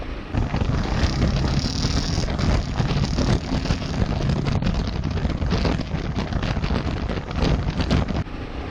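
A Kawasaki KLR motorcycle rides at about 50 mph on a gravel road, with a loud continuous engine roar mixed with heavy wind buffeting and gravel crunch, close and unbroken throughout.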